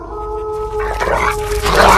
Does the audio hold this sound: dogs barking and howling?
yes